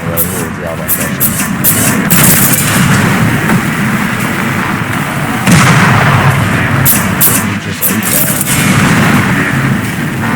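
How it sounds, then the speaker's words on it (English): Mortar shots exploding in Resident Evil 9 Requiem, a loud, sustained barrage of heavy booms and blasts rolling one into the next for the whole stretch. "How do you eat a mortar shot?"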